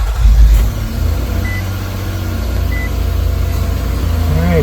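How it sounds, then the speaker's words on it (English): An Infiniti QX60's engine turns over with a brief low rumble, then settles into a steady idle hum, with a couple of faint beeps in the background. "All right, engine running,"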